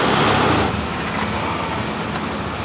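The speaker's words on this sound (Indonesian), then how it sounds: "Dan kemudian kita geber tuas gas." Throttle blips on a Honda Vario 125 scooter with a hesitant, bogging throttle: a loud, close engine roar peaks at first, then settles into a steady running drone without speech.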